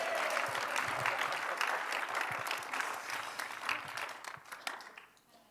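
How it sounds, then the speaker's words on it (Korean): Church congregation applauding during a sermon, a dense wash of claps from a large room that holds steady for several seconds, then thins and fades toward the end. "Clap your head. 주님께 박수를 드립니다."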